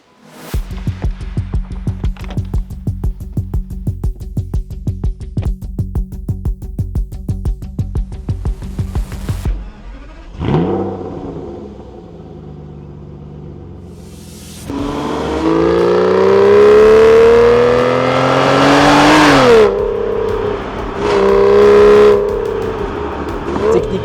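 Aston Martin Virage with a naturally aspirated 6-litre front-mid V12 of 497 hp, first idling in an even, throbbing pulse, then blipped and revved hard in loud, rising sweeps as it pulls away.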